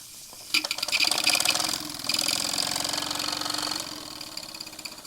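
A small model steam engine chuffs along at a steady, fairly quick rhythm, its rapid mechanical puffing and hissing running continuously at moderate volume with no voices.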